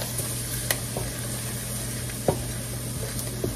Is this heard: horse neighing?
no